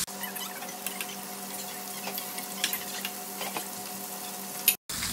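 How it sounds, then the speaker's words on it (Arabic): Beef steak strips fry in a pan until crisp, giving a steady, close crackling sizzle with faint scraping, then a brief drop to silence near the end before the frying resumes. "اقلي الستيكات لين يصيرون كريسبي"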